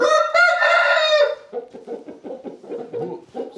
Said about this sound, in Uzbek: Qashqadaryoning shu mashhur Kuvalda laqabli xo'rozi bolasi mana